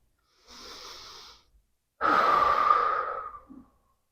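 Deep breathing during a Pilates reformer exercise, heard close up: a soft inhale, a pause, then a longer and stronger airy exhale that trails off.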